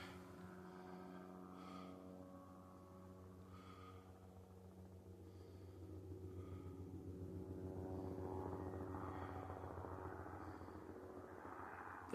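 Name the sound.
news helicopter circling overhead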